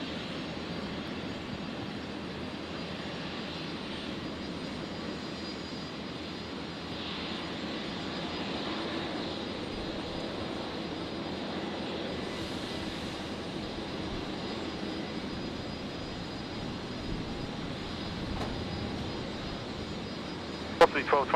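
An Airbus A380 moving at Brisbane Airport at dusk, a steady distant jet engine rumble that holds evenly throughout, with talk over it.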